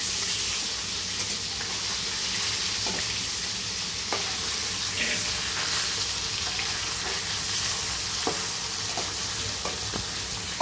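Catla fish frying in hot oil in a pan; a loud, steady sizzle fills the whole stretch, close and unbroken, with scattered pops and crackles rising out of the hiss.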